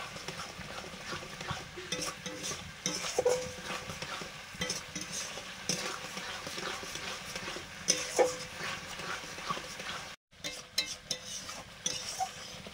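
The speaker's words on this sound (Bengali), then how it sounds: "মশলা কষানো হয়ে গেছে" Spices with salt and sugar sautéing in a pan for a potato curry: steady scraping stir strokes over a continuous soft sizzle, fairly close, with a brief break near the end.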